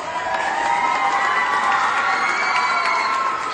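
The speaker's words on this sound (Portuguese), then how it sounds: "eu quero pedir aqui uma salva de palmas de desagravo a essas meninas que estão aqui" A crowd cheers, whoops and claps in a loud continuous roar for school cooks in Brazil's Distrito Federal, with high shouts and whistles riding on top of the clapping.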